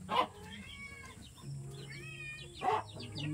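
A brooding mother hen on a Philippine farm gives a few soft, scattered clucks and short calls, with two brief louder bursts, fairly close and quiet overall.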